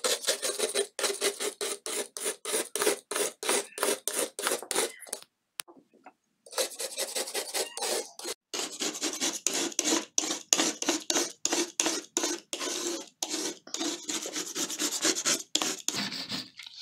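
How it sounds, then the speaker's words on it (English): A scraper rasps rhythmically across a heavily soiled oven glass door, lifting burnt grease loosened by baking soda in rapid close back-and-forth strokes with one brief pause. "I actually use a scraper here just to remove it."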